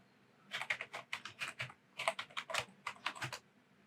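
Typing on a computer keyboard while a password is entered, a fairly close run of quick clicky keystrokes in two bursts with a short pause between, no voices.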